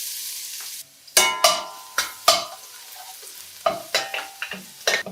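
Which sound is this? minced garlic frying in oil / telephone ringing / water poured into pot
minced garlic frying in oil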